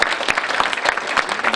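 Audience applause at a Korean political candidate's book talk event, dense steady clapping throughout with no voices over it.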